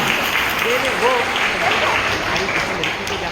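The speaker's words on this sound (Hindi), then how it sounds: "एक बार जोरदार तालियां" Steady applause from a crowd at a school Krishna Janmashtami festival, continuous dense clapping at moderate loudness with a few voices mixed in.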